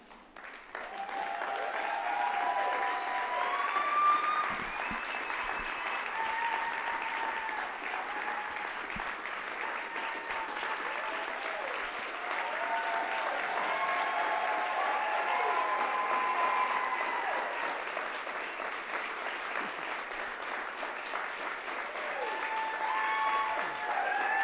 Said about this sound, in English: Please come back to the stage and we'll applaud you again.